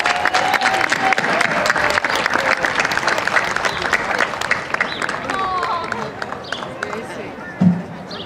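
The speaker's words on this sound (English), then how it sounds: "Let's give everyone a round of applause." School community day audience clapping steadily throughout, a dense continuous round of applause from a sizable crowd, with faint murmuring underneath and a brief thump near the end.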